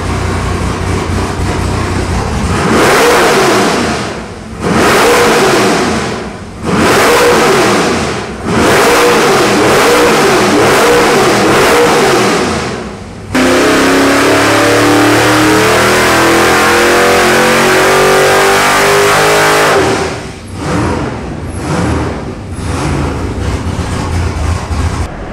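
A 690 hp naturally aspirated LS V8 with an X-Ram intake manifold revs hard on an engine dyno in repeated loud bursts, then holds a long sweeping climb before dropping back to idle and revving again.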